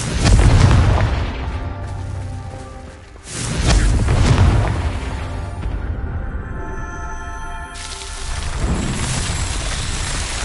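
Spell blasts from the Confringo fire spell in the video game Hogwarts Legacy boom out in a few loud, deep explosive bursts, each followed by a rumbling, crackling decay.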